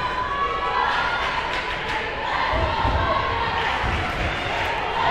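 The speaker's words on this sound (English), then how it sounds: "The crowd goes crazy here." A crowd cheers loudly at a basketball game, a broad roar of shouting voices that swells partway through, with thumping sounds underneath.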